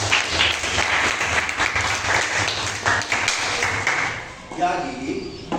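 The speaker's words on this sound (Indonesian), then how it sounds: "Oke, tepuk tangan dulu." Applause from a small classroom group during a teaching session, a dense spell of hand clapping that fades toward the end as a voice begins speaking.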